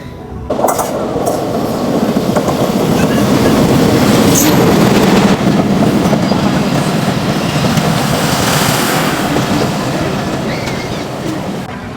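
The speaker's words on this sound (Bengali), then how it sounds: "একটা ট্রেন দেখতে পাচ্ছি যে আসছে আপনাদেরকে দেখাচ্ছি" A train rumbles past close by at Jagati Railway Station in Kushtia, Bangladesh, loud and steady, its wheels clacking rhythmically with metallic clinks before the noise eases toward the end.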